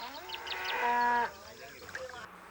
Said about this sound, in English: Cattle often wander inside the boundaries to graze.